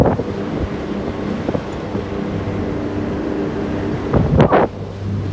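A 1971 Concord 30 sport fish boat cruises on a single motor, a low steady engine drone under heavy wind buffeting and water wash, with a brief louder gusty burst near the end.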